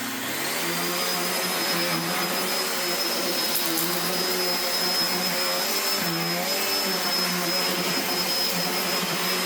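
A 1990s Panasonic MC-E53 upright vacuum cleaner runs at full power, a loud, continuous whining roar that holds steady throughout with no talking.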